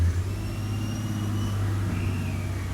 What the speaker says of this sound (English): There's a garbage truck there. I don't know if you guys can hear it, but it's pretty loud.